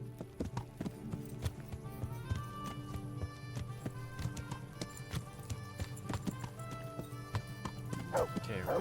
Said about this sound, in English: I'm gonna drop my horse off here